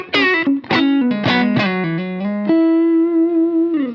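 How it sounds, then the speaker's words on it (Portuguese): Hard-picked electric guitar phrases through a Strymon Iridium amp pedal ring out with a compressed, distorted amp tone, several punchy notes then a long sustained held note, loud and close with no voices. "ele me dá a compressão e a distorção que é bem característica desse tipo de amplificador."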